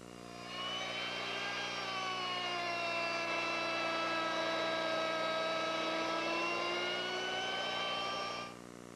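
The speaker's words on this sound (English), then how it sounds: "I've just adjusted my router to make the 3 remaining mortises" Router fitted with a 3/8-inch rabbeting bit cutting mortises in wood for a garden bench, a loud steady high-pitched whine holding for about eight seconds with no talking.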